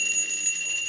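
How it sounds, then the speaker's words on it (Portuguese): A small hand bell rings with a bright, sustained metallic tinkle of overlapping high tones, steady and close for about a second with no talking. "Ô Cida, eu vou tocar meu sininho aqui, ó."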